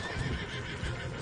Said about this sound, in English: Oh, this horse is not happy.